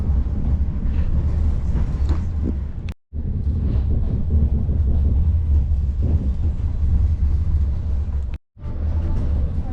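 A heritage passenger train between Da Nang and Hue, Vietnam, rumbles steadily past with a deep, continuous low roar and clatter, broken by two brief gaps of silence.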